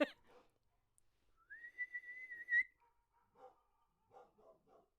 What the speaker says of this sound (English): I'm trying to whistle so softly.